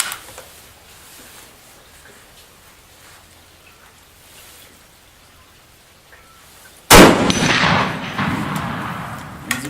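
A single 45-70 rifle shot hitting a test target, a sharp loud crack that bursts out near the end after several seconds of quiet outdoor background, followed by a decaying rumble.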